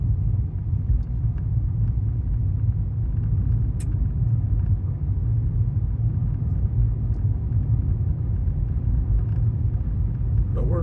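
A car cruising at about 40 mph on mountain Highway 37 between Nogal and Ruidoso, New Mexico, heard from inside as a steady low road and engine rumble, continuous and fairly loud throughout.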